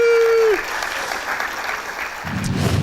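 Audience applause in a TV talk show studio, a broad sustained wash of many hands after a short tone ends, swelling slightly louder toward the end.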